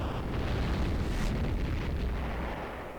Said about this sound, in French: Les Voltorbes, déclenchez le bouquet final. Explosion!